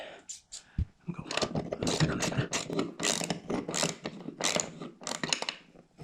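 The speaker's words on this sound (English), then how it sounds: "But let's go with ratchet." Ratchet wrench snugging up the nuts on a ceiling fan mount, a run of rapid clicking strokes in quick bursts, close by, with someone talking over it.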